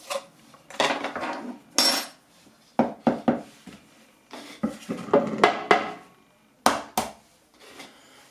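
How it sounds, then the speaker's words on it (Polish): Eggs are cracked and the whites separated from the yolks into a bowl, giving a string of sharp clinks and taps of shell and utensils against dishes, in irregular bursts with short quiet gaps. "Oddzielimy, słuchajcie, nasze białka od żółtek."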